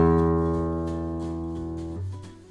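A single low E sixth string on a guitar is plucked once and left to ring, its steady harmonic tone slowly decaying over a couple of seconds with a slight change in the note near the end.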